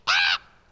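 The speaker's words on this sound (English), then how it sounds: "what this grim, ungainly, ghastly, gaunt, and ominous bird of yore meant in croaking" A single harsh raven croak, short and loud, standing alone with nothing else around it.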